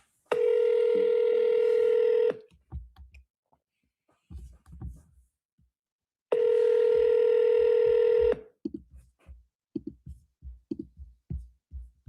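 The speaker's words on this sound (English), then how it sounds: "Listen to the voicemails popping off." Automated telephone voicemail tones during a round of sales calls: two long, loud, steady electronic beeps about four seconds apart, each followed by short bursts of muffled voice from the line.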